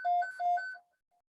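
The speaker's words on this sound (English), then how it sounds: "That would be the weather alarm saying that we're about to get the storms" A weather alarm goes off indoors, two loud electronic tones repeating in a short rising pattern, then a faint final beep as it stops.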